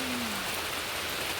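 Monsoon rain pours down steadily in Kerala, a continuous close hiss of drops on surfaces, with a brief faint tone sliding downward near the start.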